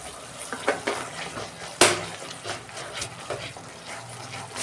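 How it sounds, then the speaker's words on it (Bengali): Spice paste is stir-fried in oil in a pan for a stingray curry, with repeated scraping and clanking of a spatula over a soft sizzle and one sharp clack partway through. "যতক্ষণ না তেল ছাড়ে আমি এটা ভালো করে কষাবো"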